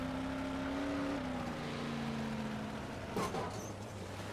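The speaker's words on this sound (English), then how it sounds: "The car's still running." Race car engine at Oswego Speedway still idling after a crash, a steady low drone holding throughout with a brief sharp clatter near the end.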